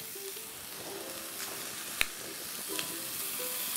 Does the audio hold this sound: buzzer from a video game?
no